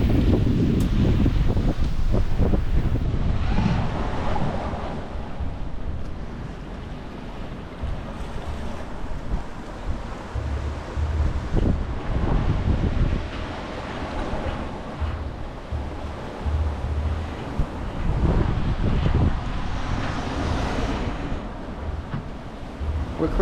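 Strong wind and breaking waves rush steadily around a sailing yacht under reefed headsail at sea in a big swell, a loud continuous roar with gusty buffeting against the microphone and no talk.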